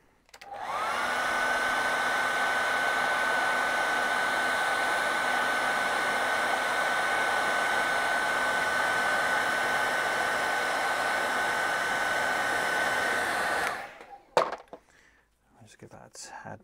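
A hair dryer blowing on freshly airbrushed paint, a loud steady whine that runs for about fourteen seconds, then cuts off, followed by a few handling knocks and rustles.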